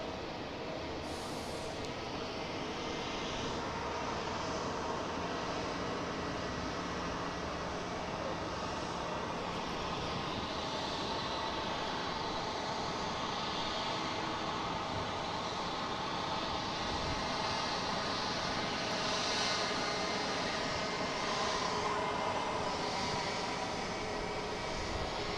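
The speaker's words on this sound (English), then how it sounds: "here's that Delta heading to Phoenix" A Delta jet airliner departs Boston Logan bound for Phoenix, a faint, distant engine rumble that swells and fades gently over a long stretch.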